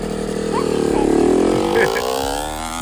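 A KTM SX125 two-stroke dirt bike engine revs close by, its pitch climbing, then dropping and settling as the gear shifts, with voices talking over it.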